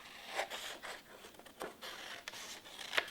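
A paper shape for a St. Patrick's Day decoration is cut out in a quick series of crisp, rasping snips and rustles. The cuts come in uneven bursts and sound close and fairly quiet.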